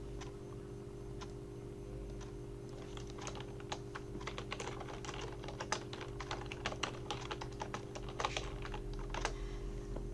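Typing code on a computer keyboard, quick irregular key clicks tapping steadily over a low constant hum, close and fairly quiet, with no talk.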